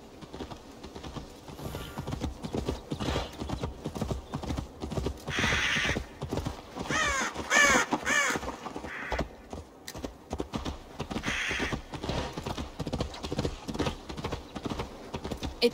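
Horse hooves clip-clop in a steady, close rhythm through the open world of Assassin's Creed Valhalla, with game music and ambience playing underneath.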